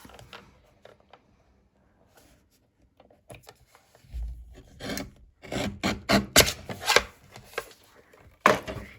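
Cardstock trimmed down to size for a folded Christmas card rasps and scrapes in a run of short strokes, close and moderately loud, after a quiet start with a few faint clicks.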